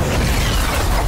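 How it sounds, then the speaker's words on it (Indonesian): A car blows up in a violent explosion, a short, dense, loud burst of noise with a heavy low rumble filling the whole moment. "ledakan dahsyat terjadi, menelan seluruh isi mobil, termasuk uang yang ada di dalamnya"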